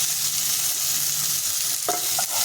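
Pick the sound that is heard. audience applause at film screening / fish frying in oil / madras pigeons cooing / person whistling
fish frying in oil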